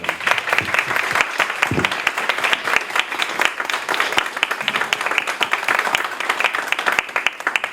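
Lively audience applause for a teacher at a law faculty event, many hands clapping in a dense, loud, continuous burst that carries on for several seconds with no talking over it.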